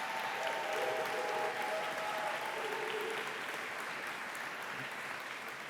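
An audience at an awards gathering in a convention center applauds the event coordinator, a dense, steady wash of many hands clapping at moderate distance that fades slightly toward the end.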